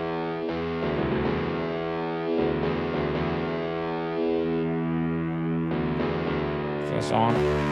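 A heavily distorted electric guitar tone from a free guitar software plugin plays thick sustained chords that shift every second or two, loud and unbroken with no talk.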